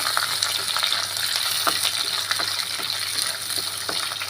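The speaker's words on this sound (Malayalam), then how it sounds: "പച്ചമുളക് നമ്മൾ നടുവെ കീറി വെച്ചിട്ടുണ്ട് അതും ചേർത്ത് കൊടുക്കാം ഇത് നന്നായിട്ട് ഒന്ന് വഴറ്റാവേ" Garlic, ginger and slit green chilies sauté in hot oil for a mackerel curry, giving a loud, steady, close sizzle broken by light clicks and scrapes of a stirring spoon.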